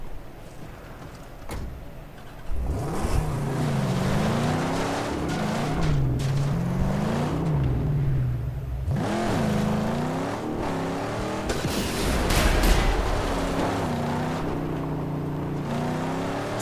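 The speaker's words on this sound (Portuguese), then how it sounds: "Agora eu vou pegar o carro e destruir eles para pegar a sucata." Cars in the Mad Max video game revving their engines hard and slamming into one another, with sharp crash impacts breaking through a continuous roaring engine drone.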